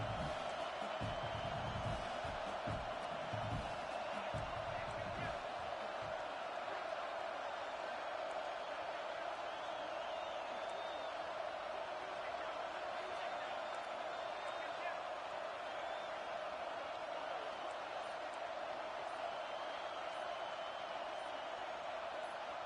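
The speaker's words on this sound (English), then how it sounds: "Decibels rising as the crowd gets behind this defense on third down." Stadium crowd noise in a college football video game swells behind the defense on third down, a steady, dense roar and cheer that fills the whole stretch, with faint thumps early on.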